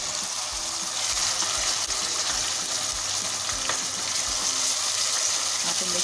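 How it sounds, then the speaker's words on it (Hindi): Blended tomato paste from two medium tomatoes hits browned onions in a hot pan for dhaba-style mixed dal fry, giving a steady loud sizzle and frying hiss with occasional stirring scrapes throughout. "हम टमाटर का पेस्ट ऐड कर देंगे।"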